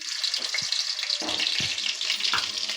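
Butter dropped into hot oil in a pan for sweet corn fried rice gives a steady, close bubbling sizzle, punctuated by a few soft knocks and clatters of utensils.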